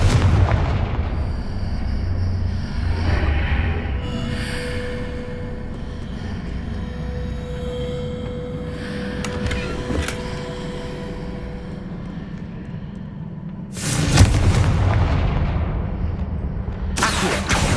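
Fire spells blast in Hogwarts Legacy with loud booming explosions and rumbling, including a big burst near the end, over ongoing game ambience.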